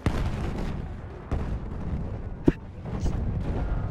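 Tank shell explosions during a Battlefield 1 match: a dense, rumbling battlefield din with repeated heavy impacts and one sharp, loud blast near the middle, continuing under the noise.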